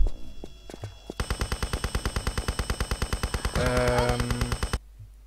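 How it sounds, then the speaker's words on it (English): Rapid automatic gunfire from an unseen shooter in Tomb Raider Chronicles rattles in a loud, evenly spaced burst of roughly thirty shots over three and a half seconds, preceded by a few scattered game sounds and ending abruptly in quiet. "Where the shots are coming from?"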